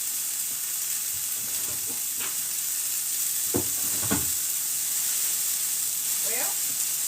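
Tofu steaks sizzling in a hot pan, a steady close frying hiss with a few brief clinks and faint voice sounds in the background.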